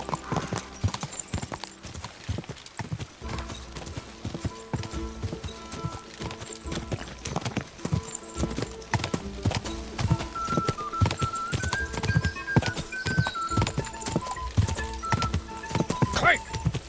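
Galloping horse hooves in the medieval video game Kingdom Come Deliverance II during a race, a steady fast clip-clop with a whinny, over a sustained musical drone.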